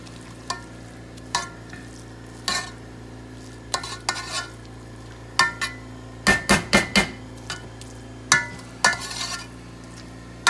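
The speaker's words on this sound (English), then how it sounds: "I'm going to just turn the rice." Rice is stirred and turned as it fries in a pot, with scattered scrapes and clanks of the utensil against the pot, including a quick burst of knocks, over a steady sizzle.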